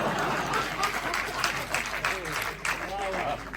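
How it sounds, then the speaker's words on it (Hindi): Audience applause at an all-India poetry gathering with a comic poet, steady dense clapping spread across the whole stretch, some crowd noise and voices mixed in. "और ताली तो इस बात पर बजाओगे"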